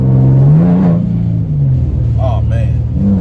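A straight-piped Nissan 370Z Z34 with OBX long tube headers revs loudly, its deep exhaust drone heard from inside the cabin under someone talking.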